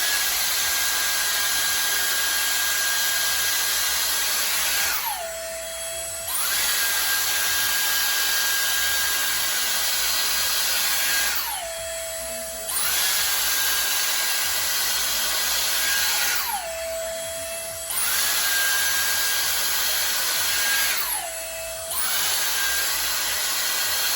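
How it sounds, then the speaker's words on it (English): Dyson Airstrait hair straightener blowing cold air on high fan speed, a steady loud whooshing hiss with a high whine that cuts out briefly four times before resuming. "We're using on the cold temperature on high fan speed level on here first to show you guys when it actually works."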